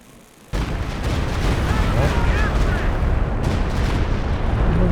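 Artillery barrages thunder through a Company of Heroes 2 battle, a dense continuous roar of blasts and rumbling impacts that starts abruptly after a brief quiet moment and stays loud throughout.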